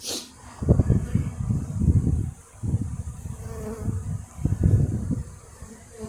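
Honeybees fly around a hive, a buzzing swarm that swells and fades in several loud, close waves with short dips between them.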